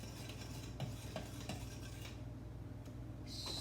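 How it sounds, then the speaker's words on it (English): Dry shortbread ingredients, flour and salt, being mixed in a bowl, with soft repeated scraping and light utensil clinks against the bowl over a low steady hum, faint and close, no talking. "Mix that up so everything is blended in there together."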